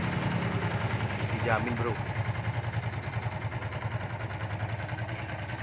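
A 2018 Kawasaki W175 SE retro motorcycle idles steadily with an even, low thumping pulse, fairly quiet and close, while someone talks over it.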